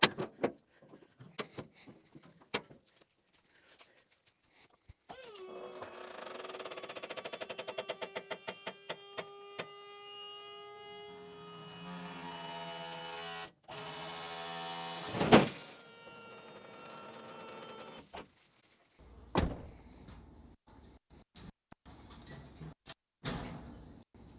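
A trailer load of firewood is dumped out: a rising motor whine that holds steady for several seconds, then scattered thuds and clatters of wood tumbling out, with quiet gaps in between.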